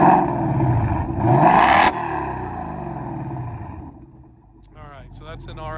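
A 2024 Ford Mustang with a Milltek exhaust in quiet mode revs up, a rising engine rumble that peaks and then drops away to a lower drone, with a person talking near the end.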